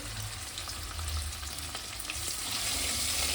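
A hilsa fish head rubbed with salt and turmeric fries in hot oil, giving a steady, fairly quiet sizzle and crackle with small bubbling pops throughout.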